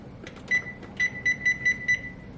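A kitchen timer beeps during cast iron pan preheating on a stove: six short, evenly spaced electronic beeps, clear and close against a quiet background.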